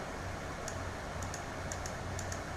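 A computer mouse clicks repeatedly during photo editing in Picnik, several soft, sharp ticks in an uneven rhythm over a steady background hiss, with no one speaking.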